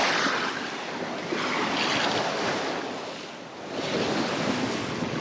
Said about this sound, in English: Look at these bastards of waves.